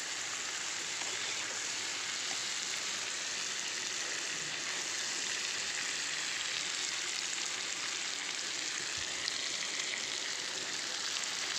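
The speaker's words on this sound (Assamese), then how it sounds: "কণী আৰু আলু ভাজি আছোঁ মই" Egg and potato fry in a pan with turmeric and salt, giving a continuous close sizzling hiss that stays even throughout, with no voices.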